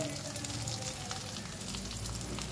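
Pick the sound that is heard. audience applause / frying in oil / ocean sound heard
frying in oil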